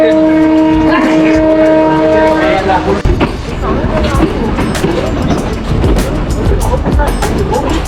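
A passenger train travelling from Trincomalee to Colombo, near Maho Junction, gives a long loud horn blast, then a heavy close rumble with rattling carriages and clatter throughout.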